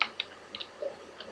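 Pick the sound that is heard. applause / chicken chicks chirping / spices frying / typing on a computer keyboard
typing on a computer keyboard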